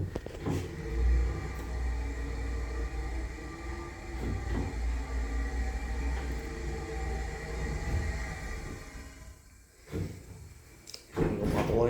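A Mowrey hydraulic elevator in a hotel runs with a low, steady rumble and faint mechanical hum, a few soft clunks along the way and a brief drop near the end before a final thump; quiet and close, no talking.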